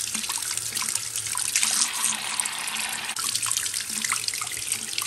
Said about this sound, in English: Let's go ahead and run some water on it and clean it up a bit.